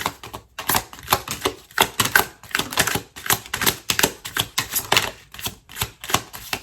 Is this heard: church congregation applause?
no